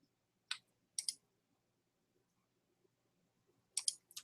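Computer mouse clicks on a desk, sharp and close: a single click, then a quick pair, a pause, and a fast cluster of three near the end, each crisp and brief against near silence.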